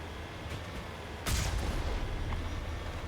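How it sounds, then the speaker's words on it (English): A cannon fires in the Mass Effect video game: one sharp, heavy blast that rolls into a rumbling tail over quiet background game noise. "I really like the cannon."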